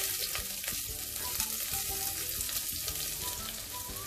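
Sliced ginger and small chillies sizzling in hot coconut oil for a Kerala beef varattiyath, a steady close crackle and hiss with scattered pops and occasional stirring, no voices.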